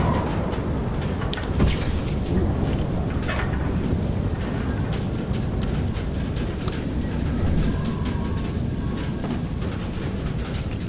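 A vehicle approaches in the video game FAR: Lone Sails during a storm, carried on a steady, loud, rumbling broadband drone with rattling and rain-like texture that continues throughout, without speech.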